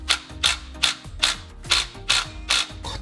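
A ratchet wrench works on the 14mm oil drain bolt of a Daihatsu Hijet S331V van, seven evenly spaced bursts of sharp clicking, close and distinct, with brief quiet between strokes.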